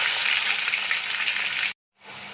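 Onion paste dropped into hot oil with whole cumin seeds, frying for a raw mango mustard chicken curry, a loud close sizzle that cuts off abruptly for a moment and then resumes more softly.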